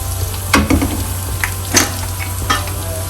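Garlic sizzles in hot coconut oil with curry leaves in a pan for Kerala-style kappa biriyani, a steady frying hiss broken by several sharp stirring scrapes and clinks, close and fairly loud.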